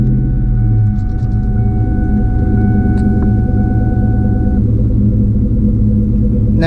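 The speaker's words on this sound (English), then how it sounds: "we'll start the car up" A Cobra car with a Flowmaster exhaust runs with a loud, deep, continuous rumble up close, holding a steady idle throughout.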